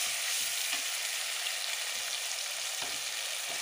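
Brinjal and tomato sautéing in a pan for a kuzhambu, a continuous bright sizzle with soft occasional stirring scrapes, close and steady without speech.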